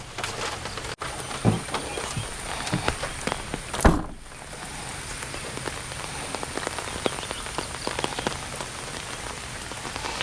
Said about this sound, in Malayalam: നല്ല മഴ എന്ന് പറയുമ്പോൾ ഭയങ്കര മഴയാണ്